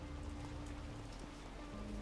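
Steady rain patters continuously over a low background hum in the video game Infamous Second Son, soft and even throughout.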